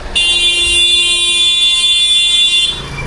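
Car horns honking on a Kathmandu street, a loud sustained high-pitched blare held steadily for about three seconds, close by and alone with no talk.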